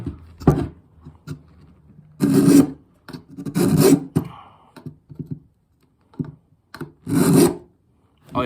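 A SOG Survival Hawk military tomahawk axe blade is drawn under pressure across small sharpener teeth, giving several loud, separate rasping strokes with quiet gaps between them.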